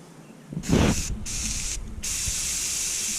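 An aerosol spray nozzle sprays paint in bursts during RV bath and trim refinishing, a loud hissing spray that cuts in and out in several close bursts, the nozzle seemingly sputtering.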